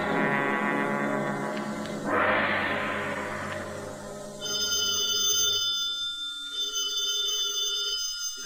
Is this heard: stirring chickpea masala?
no